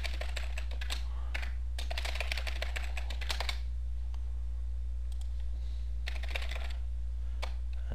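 Rapid clusters of key clicks from a computer keyboard as a password is typed, in short bursts separated by pauses over a steady low hum, with no talking.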